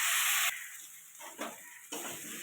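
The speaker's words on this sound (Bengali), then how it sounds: "লঙ্কার গুঁড়ো, একটু ভালো করে কষিয়ে নেব।" A fish curry base with potato and tomato is sautéed with turmeric and chili powder, giving a soft hiss with a few faint stirring scrapes. A louder sizzle at the start drops away, and no one speaks.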